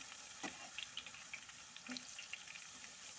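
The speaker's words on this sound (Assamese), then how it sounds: "আলুখিনি ফ্ৰাই কৰি লওঁ।" Potatoes coated in turmeric and salt frying in a pan of oil make a soft, steady sizzle with small crackles and occasional light pops, quiet and close, with no talking.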